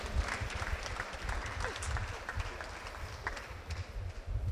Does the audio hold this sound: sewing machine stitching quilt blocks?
no